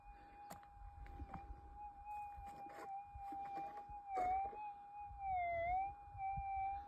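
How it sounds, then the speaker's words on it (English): A metal detector sweeping over a gold nugget near Kalgoorlie, Western Australia, sends out a steady electronic tone that wavers and dips in pitch as the coil passes, heard over quiet outdoor rustling and footsteps. "It's a motion detector. Hear it?"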